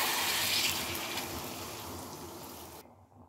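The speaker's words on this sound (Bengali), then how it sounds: "এবারে আমি পরিমাণ মতো জল দিয়ে দেবো" Water poured into a pan of muri ghonto as it cooks, a soft gushing splash with hiss that fades and stops near the end, faint and close, no talk.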